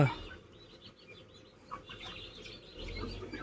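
Chickens cluck softly in a coop, scattered faint clucks and chirps over a low rustling background, with a slightly louder call partway through.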